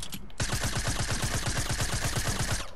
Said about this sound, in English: Oh, I missed all those shots.